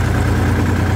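A Massey Ferguson tractor engine idles steadily with a low, even rumble that carries through the whole second, close and loud, with no voices.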